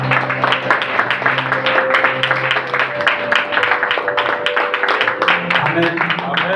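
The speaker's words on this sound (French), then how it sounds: "Est-ce qu'on peut applaudir pour le Seigneur?" A church congregation claps together in worship, a dense steady patter of hands layered over sustained music tones and a few voices throughout.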